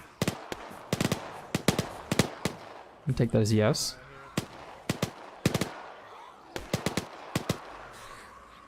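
Gunfire in the video game Arma during a zombie operation: repeated sharp loud single shots spaced irregularly through the scene, with a brief burst of rapid automatic fire partway through and a voice speaking briefly.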